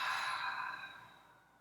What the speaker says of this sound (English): Hold the breath. And now exhale, let it go.